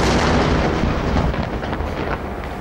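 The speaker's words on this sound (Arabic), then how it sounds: "وتعبيرا عن سخطهم الشديد على الفورمولا، فجر الكرانيون أسطوانة غاز" A gas cylinder blown up at a street protest in Bahrain, a loud, sustained outdoor roar and rumble that stays heavy throughout, with no voices.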